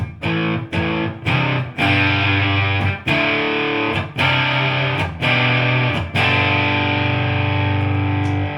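A heavily distorted electric guitar plays chords through a high-gain Novanex U50 solid state amp, loud and sustained, with brief choppy breaks between strums.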